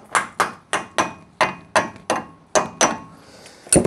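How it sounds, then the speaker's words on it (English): A hammer strikes a Corvette's metal brake cover in a quick, fairly regular series of about twelve sharp, close blows, each a bright knock with a short ring. "and we use our trusty hammer."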